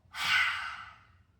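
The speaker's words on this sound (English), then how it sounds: "Breathing out, pushing the breath out." A single long, breathy exhale through an open mouth during a yoga breathing exercise, rising quickly and tapering off slowly over about a second, heard up close.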